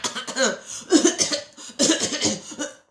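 A coronavirus patient imitates a dry cough with a string of rough, hacking coughs in two clusters, close and fairly loud, with barely a pause between them.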